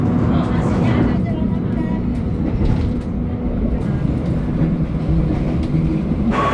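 Steady low rumble and rattle of a passenger train in Indonesia heading to Surabaya, continuous and fairly loud throughout, with faint voices in the background.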